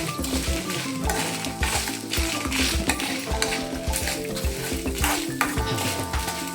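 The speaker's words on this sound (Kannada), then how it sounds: "ಬ್ಯಾಡಗಿ ಮೆಣಸಿನ್ಕಾಯಿ ತೊಗೊಂಡಿದ್ದೆ ಅಲ್ವಾ, ಸೊ ಅದನ್ನು ಫ್ರೈ ಮಾಡ್ಕೊಳ್ಳೋಣ. ಚೆನ್ನಾಗಿ ಹುರ್ಕೊಳ್ಳೋಣ" Byadgi red chillies frying in a pan for a Karnataka vangibath spice mix, with a steady sizzle under frequent scraping and clinking of a spatula stirring against the metal pan, close and busy.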